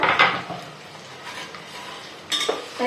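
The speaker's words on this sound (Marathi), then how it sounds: "आपल्याला चांगलं परतवून घ्यायचा आहे कांदा" Onions being sautéed in a pan for khichdi: a spoon clinks and scrapes against the metal pan in a few short bursts over a faint background hiss.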